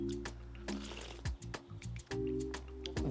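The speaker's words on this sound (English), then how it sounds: "I'm just gonna pour my smoothie" A thick avocado smoothie pours from a blender into a glass, giving soft wet glugs and drips in short, uneven bursts over a steady hum of background music.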